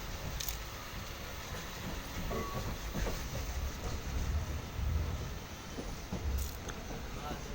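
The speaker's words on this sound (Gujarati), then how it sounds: "ટ્રેન જઈ રહી છે જો, ટ્રેન આ રીતે પણ અહીંયા જઈ રહી છે જો" A train rolls through Jetalsar junction, a steady rumbling roar with hiss and faint rail clatter heard from nearby, with track work going on and a voice talking over it.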